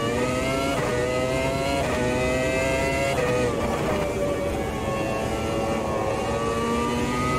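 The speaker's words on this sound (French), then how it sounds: "comme j'adore cette Formula V10 et le son, c'est le moment d'aller tester sur un circuit à pleine charge" A Formula V10 race car at Monza in Automobilista 2 screams at full load, a loud, close, sustained high-revving engine note rising and falling through gear changes without talk.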